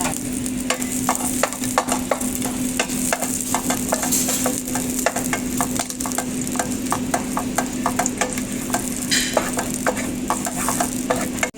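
Butter sautéing in a pan for a Filipino chicken dish with tomato, a steady close sizzle with frequent clicking stir and spatula scrapes running throughout, no talk.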